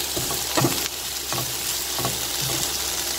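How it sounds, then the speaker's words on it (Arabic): Shrimp and vegetables fry in a pan for a noodle sauce, a soft continuous sizzle broken by several short bursts of crackling as the food is stirred. "خليها العافيه مجهده باش كتشحر واحد شويه"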